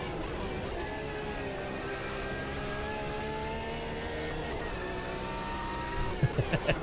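A race car engine in the Automobilista 2 racing game drones and whines with a buzzy, gravelly tone. Its pitch climbs and falls through the gears, and a few sharp thumps arrive near the end.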